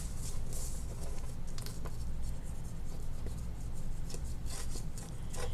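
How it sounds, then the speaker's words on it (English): Glue being spread across embossed paper while a journal pocket is made, a steady close scratchy rubbing that carries on without pause under a constant low hum, with no speech. "I'm going to apply my glue"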